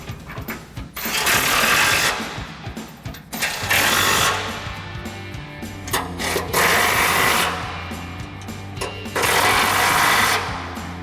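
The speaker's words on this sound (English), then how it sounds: "grab our 18mm socket on our impact, and we'll tighten these two down first" An impact wrench with an 18mm socket tightens bolts on a rear bumper of a 2021-2025 Ford Bronco, firing several loud, buzzing hammering bursts of a second or two each, separated by short pauses, close to the mic.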